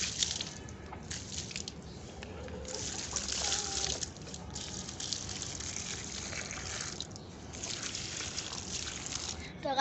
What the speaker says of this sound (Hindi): अब डालते हैं पौधों को पानी